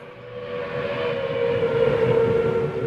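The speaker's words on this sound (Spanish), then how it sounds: "En la ciudad de Querétaro partían trenes en todas direcciones." Trains pull out of the station in the city of Querétaro, a steady low rumble with a sustained tonal hum that swells slightly in loudness as it goes on.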